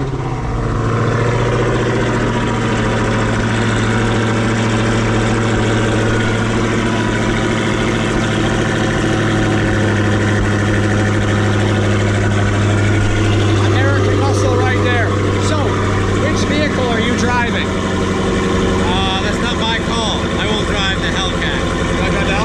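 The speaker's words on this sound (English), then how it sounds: "Got the Hellcat here. Gonna be doing 2 cold starts." A Dodge Hellcat engine idles steadily after a cold start, its low, constant rumble filling the recording from start to finish, loud and close, with a voice speaking over it in the middle stretch.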